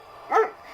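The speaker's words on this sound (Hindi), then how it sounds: "ये क्यों मुझ पर भौंक रहा है?" A single short bark or yelp from a dog, fairly close and moderately loud, with quiet background before and after.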